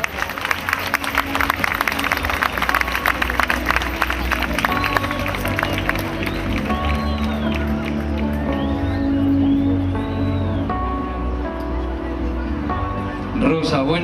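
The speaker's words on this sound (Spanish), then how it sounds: "Un fuerte aplauso para Rosa María Chamorro" Audience at the Serranilla de Mágina pageant in Huelma claps for a representative of Belmez de la Moraleda; the applause runs steadily under music and other crowd sounds, with some tonal sounds rising midway.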